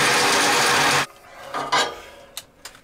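A drill bores a hole through the bottom of a tank, giving about a second of steady, harsh grinding whir. It then stops and is followed by scattered scrapes and light knocks.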